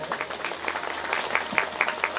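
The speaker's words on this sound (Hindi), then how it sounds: "एक बार ताली बजाकर आपका अभिनंदन करें" Audience clapping along at a Hindi religious discourse gathering in Shahdol, Madhya Pradesh, steady mid-level applause with a few sharper claps rising toward the end, no talk over it.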